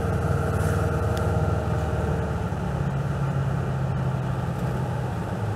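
A 1975 Chevrolet Corvette is driven through downtown Chilliwack, its engine giving a steady, rumbling drone heard from inside the car at an even loudness throughout, with no talking.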